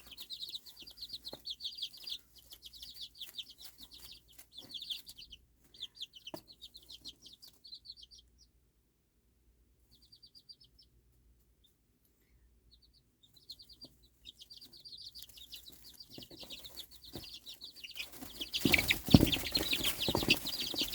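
Young chicks peep in quick high bursts, close by and fairly faint, with soft clucking and pauses of near silence between, followed by a louder rustling burst at the end.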